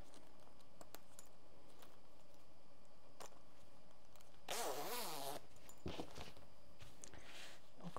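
A zipper on a Teddy Sésame bomber jacket is closed in one brisk upward pull lasting under a second, close and fairly loud. A few faint clicks and light handling noises of the fabric come before and after it.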